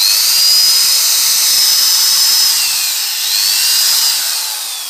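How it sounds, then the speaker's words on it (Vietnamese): A Hitachi 110V two-function electric drill runs in regular drilling mode, a loud, steady high-pitched whine up close with slight speed wavers, continuous and alone. "khoan sắt á"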